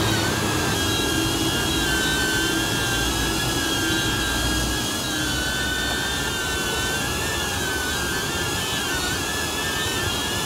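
A DJI Neo drone fitted with a larger battery hovers in place, giving off a steady high-pitched propeller whine with a slight warble. The drone is loud and close, the tone constant throughout, with no talk.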